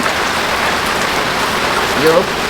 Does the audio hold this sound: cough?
no